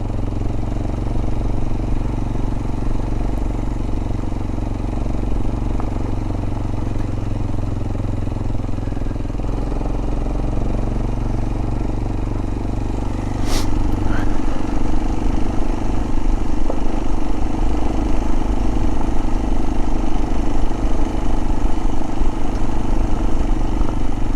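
A Kawasaki KLX 230 dirt bike rides a rutted forest service road, its engine droning loud and close under heavy wind rumble, with clattering jolts and the revs rising partway through.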